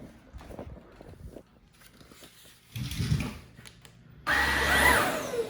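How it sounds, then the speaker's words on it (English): Ryobi ONE+ HP brushless dual roller stick vacuum switched to high, starting after some quieter handling noises and ending in a loud, steady whirring roar close by. "I'm going to keep the vacuum on high."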